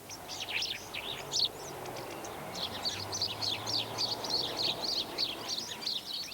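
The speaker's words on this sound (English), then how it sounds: "House sparrows." House sparrows in a British garden chirp in quick, busy bursts of short notes that run on without pause over a soft background hum.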